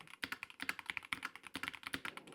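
Typing on a Keychron mechanical keyboard with a full aluminum body, producing a quick, uneven run of crisp close-up keystrokes with no talking.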